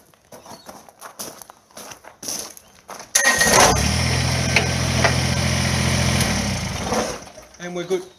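Small engine of a tractor loader revving steadily as its bucket closes, a loud continuous drone lasting about three seconds, preceded and followed by rustling and footsteps.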